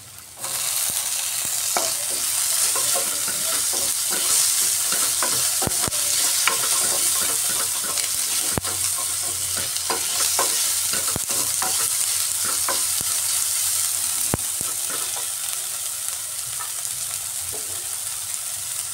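Chopped tomatoes frying with onion and ginger in a hot pan, a loud continuous sizzle with repeated spoon scrapes and stirring clatter throughout.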